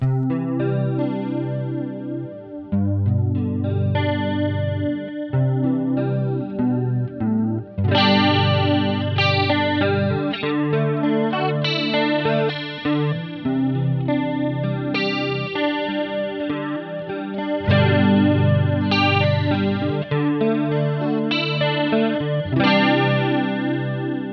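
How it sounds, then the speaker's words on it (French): An electric guitar plays chords through a Tampco The Twist modulation pedal, a strong swirling chorus-like wobble with some grit, ringing clearly and alone throughout. "là vous entendez que la modulation est beaucoup plus présente déjà"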